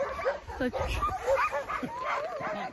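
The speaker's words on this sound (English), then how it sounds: "Oh, there's so many dogs." Many sled dogs barking, yipping and whimpering on a glacier, a busy chorus from a large pack close by, with a voice speaking over it.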